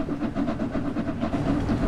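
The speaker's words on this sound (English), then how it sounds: "That, my friends, is a train." A Great Western train running in Train Sim World 6: a steady, close rumble with a faint rhythmic pulse of wheels over rail joints, heard alone with no talking.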